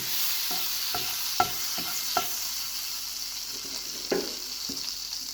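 Butter melts in a pan on the stove, with a quiet steady sizzle broken by a few soft clicks and scrapes.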